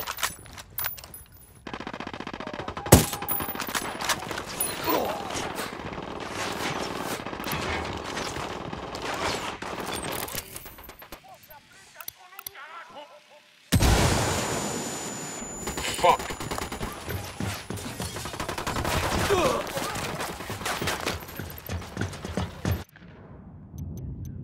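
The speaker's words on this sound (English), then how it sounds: "Opening fire on these fuckers." Automatic gunfire and bursts of shots in the Ghost Recon Wildlands video game, loud and repeated in dense clusters across the clip, with a sharp onset midway and a brief drop to near silence.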